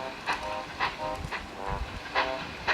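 Duncan, a small steam engine, sounds with soft, rhythmic chuffing bursts of steam, about five evenly spaced puffs over a few seconds, heard at moderate distance with no clear sustained whistle tone.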